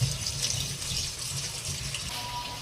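Tap water runs steadily into a kitchen sink as molokhia leaves are rinsed, a continuous close hiss and splash with no pauses and no talking.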